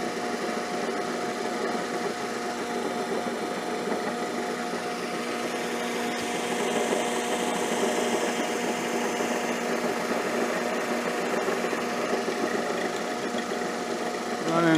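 A milling machine turns a 5/8-inch high-speed steel four-flute cutter at 365 RPM, making a steady whining drone with a faint chattering texture, continuous and close throughout.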